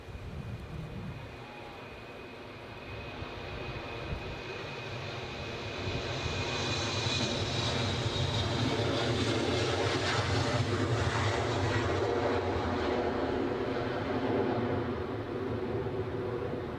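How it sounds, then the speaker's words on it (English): A British Airways Embraer jet rolls down the runway for takeoff at a windy Edinburgh airport, its engine roar swelling from moderate to a loud, sustained broadband rumble with a rising whine, heard alone without voices. "the British Airways Embraer, which is rolling now on its way back to London City"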